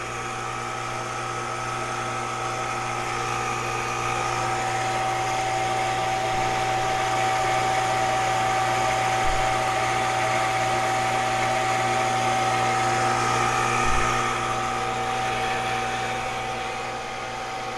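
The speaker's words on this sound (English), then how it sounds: "And now I'll turn on the pump." An electric water pump runs steadily, pressurizing a tank on a home water system after a plumbing repair, a constant humming drone with a sharp tonal whine that holds at a near, even level throughout, with two faint thumps.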